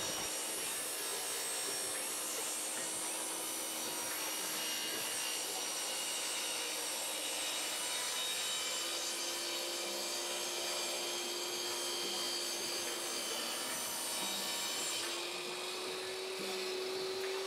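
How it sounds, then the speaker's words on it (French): A Ryobi RTS1800 table saw cuts a 45-degree bevel through a pine board, a steady, loud whine of motor and blade grinding through wood, continuous for the whole stretch with no talking. "Donc maintenant, je vais faire un essai avec une coupe biaise à 45 degrés."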